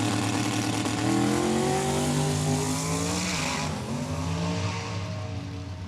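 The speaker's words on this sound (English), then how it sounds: "Chatters the tires" A drag race car launches hard at Saskatchewan International Raceway during a heads-up event, its loud engine revving up with a wavering, chattering tone as the tires lose grip, close and sustained without talk.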